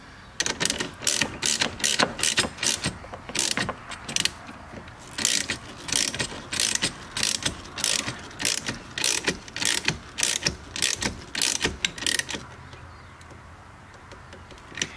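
Ratchet wrench snugging down 13 mm nuts on a C7 Corvette battery hold-down, close and loud, with rapid bursts of clicking pawl strokes repeating steadily before stopping near the end.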